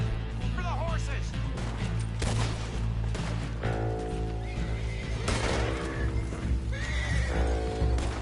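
Horses neighing and whinnying with clip-clopping hooves in the video game Red Dead Redemption 2, loud and close amid gunfire-like bangs, shouting voices and a low rumbling score.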